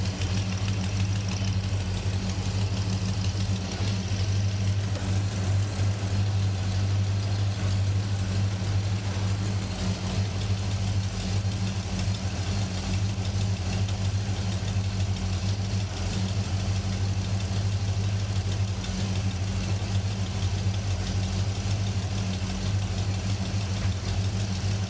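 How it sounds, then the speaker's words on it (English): A car engine with an exhaust leak idling with a steady low rumble and a rhythmic puffing, ticking exhaust note, constant and close for the whole stretch. "as you can also hear, I've got one heck of an exhaust leak back there"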